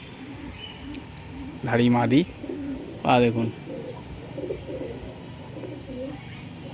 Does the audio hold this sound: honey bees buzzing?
no